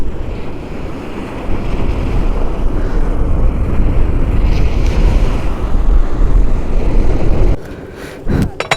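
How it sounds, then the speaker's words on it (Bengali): Wind and surf at Fraserganj sea beach roar steadily as a broad, loud rush of waves and gusting air buffeting the microphone, dropping off sharply near the end. "তো বন্ধুরা এটাই হচ্ছে ফ্রেজারগঞ্জ সি বিচের ভিউ।"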